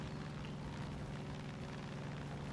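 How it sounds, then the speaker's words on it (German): A steady, faint engine drone from a seaplane in the video game Far Cry 5, a constant propeller hum with no voices over it. "Wasserflugzeug. Und los geht's."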